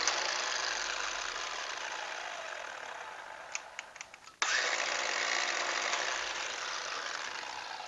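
A cordless SP Tools polisher runs steadily and loud, its motor dipping briefly with a few clicks before surging back to a sustained whine, with no talk.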